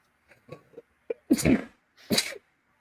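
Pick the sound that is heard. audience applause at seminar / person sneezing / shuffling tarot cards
person sneezing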